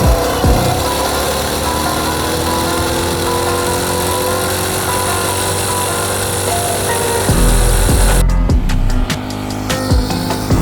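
A homemade motorbike with a 200cc engine mounted on bicycle wheels runs steadily and loud nearby, its buzzing engine note climbing. It then changes abruptly to a rougher, choppier sound near the end.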